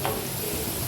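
Bitter gourd slices frying in hot oil as they are turned, a steady close sizzle with faint stirring ticks and a small knock right at the end.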